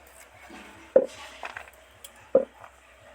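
Peeled garlic cloves are chopped into thin, long strips, giving two sharp knife knocks on a board with lighter, fainter cutting taps between them in a quiet kitchen.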